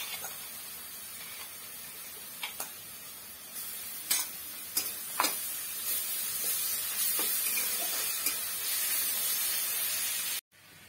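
Garlic-ginger paste sizzles loudly in hot oil with browned onions in a wok, a constant frying hiss broken by sharp pops and spatters, with no talking, ending abruptly.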